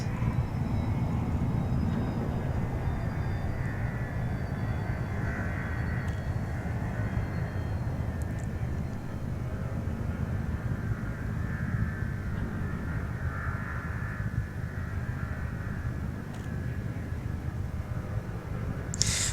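A spaceship in Elite Dangerous descends to a landing pad with its landing gear deployed, its engines giving a steady, loud low drone and hum that holds throughout, with faint higher whines over it.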